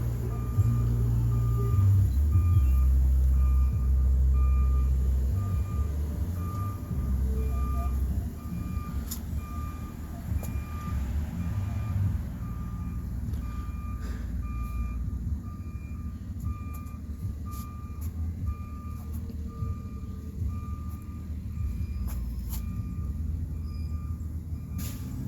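A garbage truck backs up in cold weather, its steady evenly spaced reversing beeps sounding throughout over a loud heavy diesel engine rumble that eases after the opening seconds, with occasional clanks and no talking.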